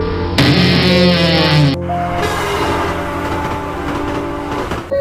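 A loud train rumbles past close by, a bright horn blast at the start giving way to steady rolling and rattling of the cars.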